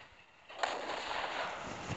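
A single tank cannon shot in the video game Armored Aces: a sudden boom with a rumbling, noisy tail that stays loud to the end, following a quieter stretch of game ambience.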